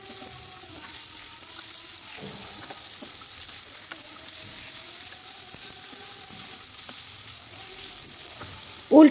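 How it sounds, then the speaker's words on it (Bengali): Thick-cut eggplant slices fry in mustard oil and are flipped in the pan, giving a steady close hiss with small scraping knocks and a louder clatter at the very end. "এই তো আমি উল্টে পাল্টে ভেজে নিচ্ছি।"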